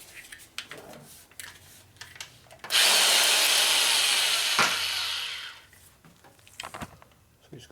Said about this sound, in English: So use a nice heavy duty 1/2 inch drill.